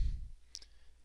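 A mouse click on a software button gives one short, crisp click, close and fairly faint, after a low thump, with no talk.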